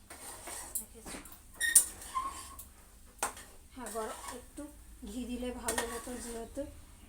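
A banana flower curry is stirred in a pan, with repeated scraping and clinking of a utensil against metal in uneven bursts, close by and fairly quiet. A person talks through most of it, and a few thin squeaks show through.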